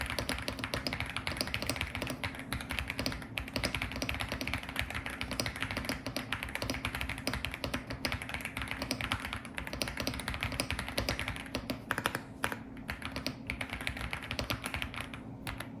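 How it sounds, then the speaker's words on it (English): Typing on an AULA F75 mechanical keyboard, a dense, continuous stream of deep, thocky keystrokes at a steady fast pace, close and clear with no talk over it. "let's hear some more typing"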